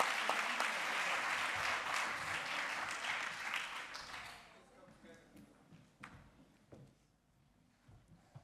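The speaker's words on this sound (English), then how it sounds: "So please, a big round of applause for our fantastic rapporteurs." Conference attendees at a sustainable Mediterranean tourism event applaud the rapporteurs, a full round of clapping lasting about four seconds before dying away, followed by quiet room noise, voices and a few knocks.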